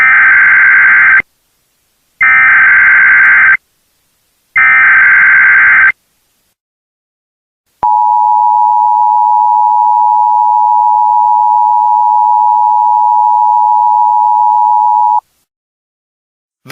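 Emergency alert system attention tones for a national emergency action notification: three loud buzzing data bursts separated by short gaps, a pause, then a long steady piercing tone held for about seven seconds before cutting off.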